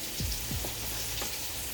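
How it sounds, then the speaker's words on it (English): A floured pork chop sizzles and crackles steadily in hot oil in a pan, a close, busy frying hiss with a few low thumps. "so we're just going to place this into the frying pan gently"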